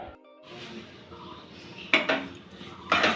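Ground cumin, coriander, red chilli and garam masala are stirred and fried in a pan, giving soft sizzling with a few sharp metallic clinks of a spatula against the pan, close and quiet.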